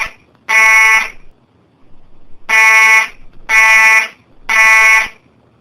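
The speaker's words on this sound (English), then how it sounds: "I'm going to pull the fire alarm so I'll see how gullible my classmates are." A school fire alarm blaring in loud, harsh, buzzing bursts, four blasts of about half a second each, with a longer gap after the first, close and dominant.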